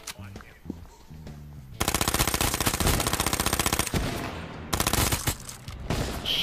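Loud bursts of rapid automatic gunfire come in two long volleys during an H1Z1 video game match, after a quieter stretch of scattered sounds.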